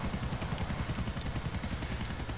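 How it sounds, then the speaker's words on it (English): A helicopter in the video game GTA IV thrums with a fast, steady rotor chop as it flies in to land, with continuous engine whine and no voices. "I just cannot fly a freaking helicopter. So we're going to go ahead and land this thing."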